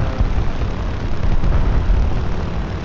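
A flying cannon plane in a video game drones with a dense, constant low engine rumble, loud and unbroken for about three seconds.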